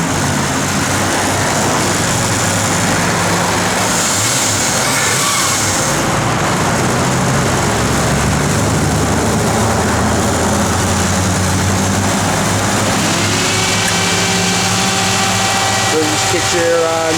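A 1965 Ford Mustang GT engine fires up and settles into a steady, rumbling idle, heard close by throughout with people talking over it.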